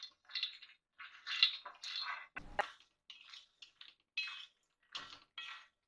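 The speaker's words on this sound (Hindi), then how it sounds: "इसे मखाना को रोस्ट करेंगे, ये भी लो फ्लेम पर ही चलाएंगे।" Makhana (fox nuts) being stirred and roasted in a pan over a low flame, a series of dry rattling, scraping clinks in short bursts with one sharper knock partway through, close and fairly quiet.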